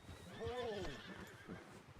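A horse in the Western video game Red Dead Redemption 2 gives a single neighing whinny, faint and brief, with a hint of hoof clops and quiet game ambience around it.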